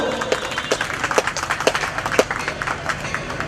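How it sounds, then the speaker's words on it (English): Audience applause at an Independence Day celebration at a railway divisional office, steady and full with sharp individual claps standing out, continuing evenly throughout. "A big round of applause, ladies and gentlemen, for this show"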